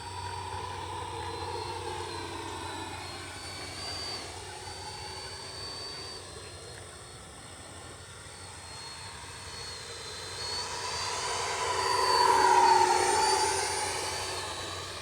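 A Freewing Ares 3D Red Ultra Performance 8S 90mm RC jet flies past, its ducted-fan whine drifting and shifting in pitch as it circles, swelling louder near the end of a steady distant pass.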